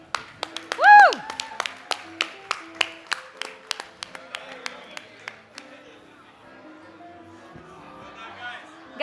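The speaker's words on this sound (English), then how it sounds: "Let's give them all a round of applause." Audience at the MedTech World Malta gala awards claps in a steady series of sharp, fairly close claps; a cheer is heard early, then the clapping fades to a softer murmur.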